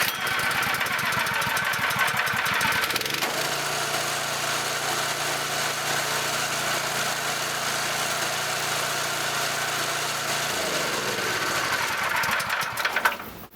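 A rebuilt Scott Bonnar 45 mower engine pull-started with a few quick rattling pulls, then catching and running at a steady, loud, even putter before easing down near the end.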